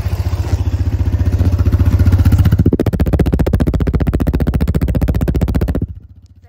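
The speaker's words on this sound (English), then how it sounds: "Alright, and I'll show you the exhaust too." A loud small four-wheeler quad engine idles and revs nearby with a rapid pulsing exhaust putter, then cuts off abruptly near the end.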